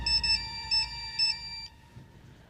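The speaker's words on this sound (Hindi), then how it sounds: "बिरजू की वाइफ का फोन है।" A telephone ringtone sounds for an incoming call, three short bursts of bright electronic tones in a steady pattern, fairly close and clear, then stopping abruptly.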